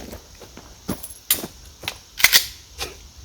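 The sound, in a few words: handgun shots fired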